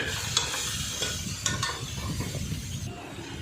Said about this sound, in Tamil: இப்போ இந்த மஞ்சத்தூள் போட்டு நல்லா வதக்கி விடுங்க.